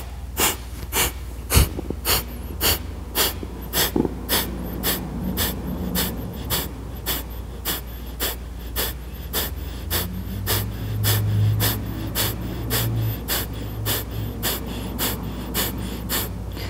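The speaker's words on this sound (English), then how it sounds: "we're going to do 3 rounds of Kapalabhati" Rapid, forceful Kapalabhati yoga exhalations through the nose, a long, evenly spaced series of about thirty sharp puffs of breath, close and steady, with no talking.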